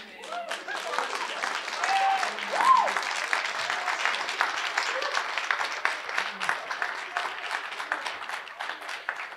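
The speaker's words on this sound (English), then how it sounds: "Continued clapping for Madison." Audience applause fills a hall at a state poetry recitation competition in Maryland, steady dense clapping that swells briefly then holds for several seconds.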